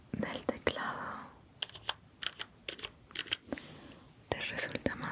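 Rapid clicking keystrokes on a computer keyboard in a quiet ASMR tickle session, coming in irregular bursts and short runs with brief pauses, close and crisp but soft overall.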